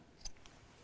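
Scissors snip into the fabric seam allowance of a rattan-handle bag during sewing, giving one quick, faint close cut that stands alone with no talk.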